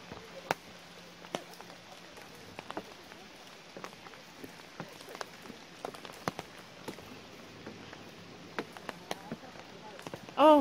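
Steady rain patters on the ground at Seowongok Amusement Park in Masan, with scattered sharp drips and splashes throughout and a brief louder burst at the very end.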